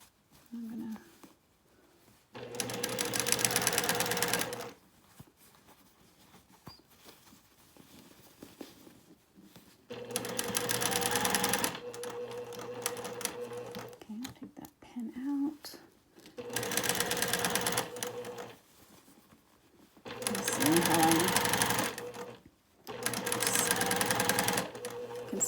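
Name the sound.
sewing machine stitching quilt fabric with quarter-inch seam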